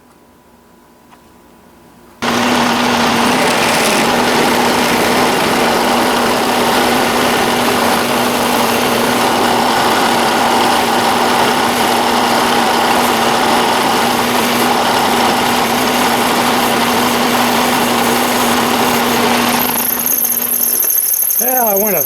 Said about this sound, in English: lock the tailstock, zero out the DRO, and drill to 450 thousandths